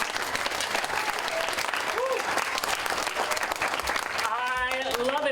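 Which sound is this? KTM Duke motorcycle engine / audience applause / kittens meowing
audience applause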